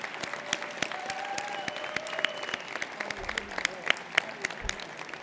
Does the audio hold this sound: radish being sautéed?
no